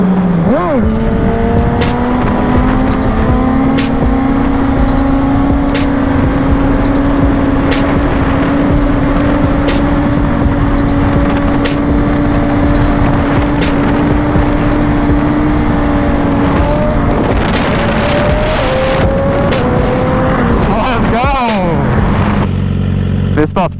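A rebuilt BMW S1000RR sport motorcycle being ridden, heard close and loud: a steady, droning engine note holds for most of the run, then revs up and drops off near the end, with wind rush underneath.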